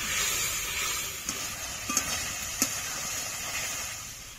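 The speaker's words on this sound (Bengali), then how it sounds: "এবার ভালো করে কষে নেব।" A paste of dried red chilli and spices, loosened with spice-rinsing water, is stirred and fried in a pan for a rohu fish curry, giving a continuous close sizzle broken by a few sharp spatula taps.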